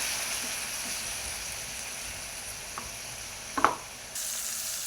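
Tomatoes sizzle in oil in a pan for egg curry, a steady close hiss with a brief stir scrape near the end and no talk.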